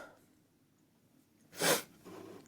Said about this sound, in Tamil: என்னவோ தெரில, தும்மல் வந்துட்டே இருக்கு இப்போது.